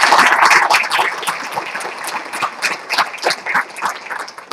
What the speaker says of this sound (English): let's just give everyone a big round of applause in advance for that